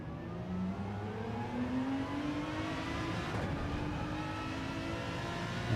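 A race car in Gran Turismo 7 on Circuit Gilles Villeneuve pulls hard after an upshift, its engine droning steadily and climbing in pitch, loud and continuous with no talking.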